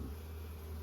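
Bees buzz steadily inside an open hive frame box during a nucleus hive check, a dense continuous low hum close by with no talking.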